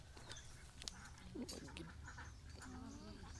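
Ducks quack in a pen raised by a household, a few short nasal calls scattered over the clip at close range, over a continuous low background hum.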